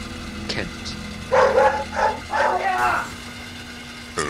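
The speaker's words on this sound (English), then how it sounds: "Shut up, dogs." A few dog barks and yips from household dogs at moderate distance, short bursts in quick succession, with a voice speaking around them.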